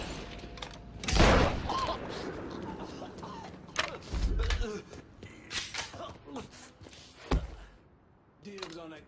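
Gunfire and creaking mechanical noises in the video game Mafia III, with scattered loud bursts of shots and booms between quieter stretches, near and harsh, with some voices.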